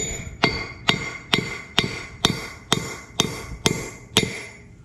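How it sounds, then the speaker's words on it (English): Nine ringing hammer blows on metal land at a steady, even pace, each one sharp and close with a short metallic ring after it. "I'll just take a hammer here and just beat these down"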